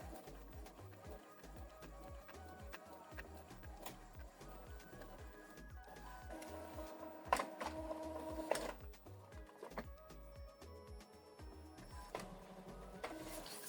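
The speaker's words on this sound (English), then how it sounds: "So this information is printing out." An Epson EcoTank printer prints a Wi-Fi Direct information sheet with a rhythmic, whirring mechanical chug, steady and moderately faint, with a few louder clunks as the paper feeds.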